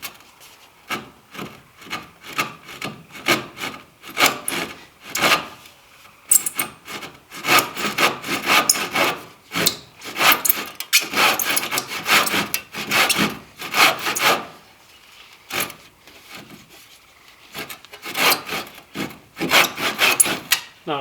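A hand saw rasps through a pine timber joint in close, rhythmic back-and-forth strokes, each pass a bright scratchy burst, with short pauses between runs of cutting.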